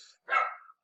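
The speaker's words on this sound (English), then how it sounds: "sorry about the dogs, guys." A single loud dog bark bursts out close by, preceded and followed by faint background noise.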